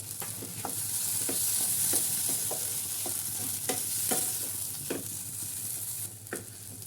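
Fried prawns are stirred into a pointed gourd filling in a hot pan, a steady sizzle broken by repeated scraping and knocking strokes of the spoon against the pan, close and alone.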